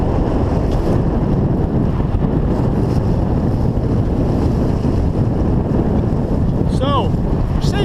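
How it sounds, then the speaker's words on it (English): Waves crash against a small boat out on rough Lake Huron, with heavy wind buffeting the microphone and a constant loud roar of water and spray. A brief creak or squeal rises near the end. "Waves were coming from stern, now they're trying to come this way, they're crashing together."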